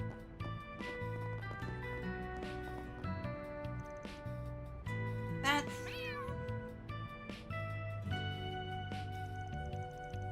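Cats meow repeatedly in the video game Trails Through Daybreak, several short plaintive calls over a steady looping game music bed, with one sharper, rising cry near the middle.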